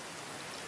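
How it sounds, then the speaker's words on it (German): Rain in the video game Raft, a brief, even hiss of falling drops at low level with no voices. "Es regnet."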